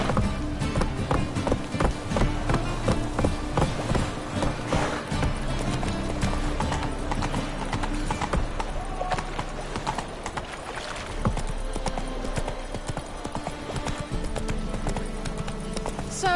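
Roach, the horse in the video game Witcher 3, galloping with rapid, rhythmic clip-clop hoofbeats that hold steady and close throughout, with faint game ambience behind them.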